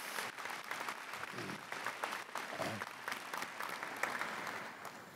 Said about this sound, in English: One more big round of applause for that.